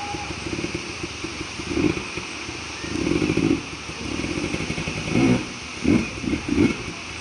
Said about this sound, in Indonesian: Para yung mga motor makatawid